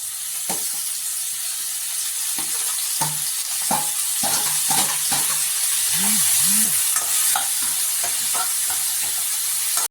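Tomatoes sautéing in a pan for a Tamil tomato thokku with curry leaves and green chillies, a steady close sizzle under repeated scraping stirs of the spoon against the pan and no talk.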